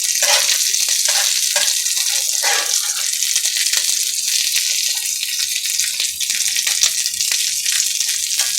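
Salisbury steak sizzling in a hot cast iron pan, a continuous bright frying hiss with a few tossing clatters, close and steady, no talk.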